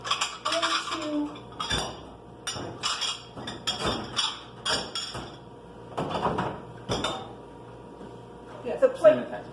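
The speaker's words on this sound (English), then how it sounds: "we're going to scrub that frosting and cake off" Dishes and cutlery clatter and clink while frosting and cake are scrubbed off plates with water in a sink before they go into a plate washer, with repeated sharp knocks over a steady background hum.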